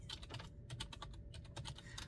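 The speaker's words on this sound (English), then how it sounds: "I'm typing Aquarius in search of past readings" Steady computer keyboard typing, a rapid run of crisp clicks and key taps over about two seconds at moderate, close level, with a low background hum and no voices.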